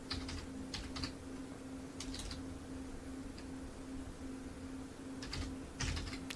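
Soft typing on a computer keyboard while naming a disc before burning it, scattered short clusters of keystrokes, faint and close, over a steady electrical hum with no talk.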